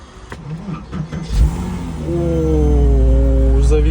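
A Porsche that had been submerged is cranked and then fires up, with a loud starter whirr and sputters followed by a steady idle that settles in and grows stronger.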